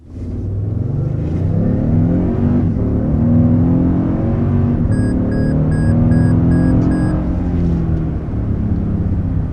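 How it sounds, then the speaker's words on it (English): A 2024 Toyota Tundra accelerates hard from a standstill past 60 mph, its engine note rising loud and steady through the gears for the whole stretch, heard close from inside the cabin with no talk. "So that was a little above 60 miles per hour with this all-new Tundra."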